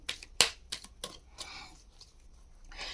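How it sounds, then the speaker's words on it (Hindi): Tarot cards shuffled by hand during a reading, giving a few sharp riffling snaps and soft papery flutters, fairly close and quiet, with no talking. "मैं और शफल कर लेती हूँ"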